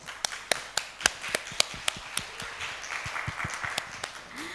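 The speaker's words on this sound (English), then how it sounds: "give big applause." Audience applause at an economics, business and social sciences international conference, starting as sparse individual claps that swell into a moderate, steady round of clapping from a mid-sized crowd, fairly close.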